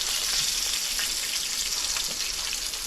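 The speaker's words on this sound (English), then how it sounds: "Mmm, deep fried iguana." Iguana meat deep frying in hot oil, giving a loud, steady, close sizzle that runs unbroken throughout, with no voices.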